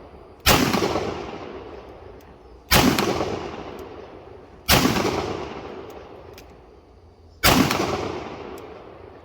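Four heavy booming shots from a Smith & Wesson 500 Hunter big-bore revolver, spaced about two to three seconds apart, each a sharp loud blast with a long ringing decay outdoors.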